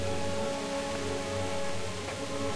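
Steady rain in Kingdom Come: Deliverance, a constant soft hiss of falling drops with a faint background hum, even and continuous throughout.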